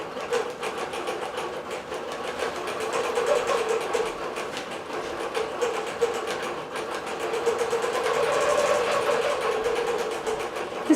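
A computerized digital quilting machine stitching a design at high speed, producing a fast steady mechanical chatter with a rising and falling hum, continuous and close with no talking.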